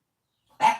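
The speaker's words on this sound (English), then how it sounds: "You want to bark?" A dog gives one short, loud bark close by, after a stretch of silence.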